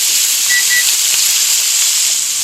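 Chuck eye steak searing on a Fry 2 grill gives a steady, loud hiss throughout, with a brief faint whistle-like tone early on and no talking.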